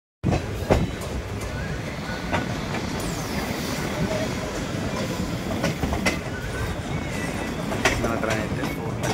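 The Guntur–Aurangabad Express, just out of Parbhani Junction, rolls on with a steady heavy rumble, rattling wagons and scattered wheel clacks, loud and continuous from inside the train.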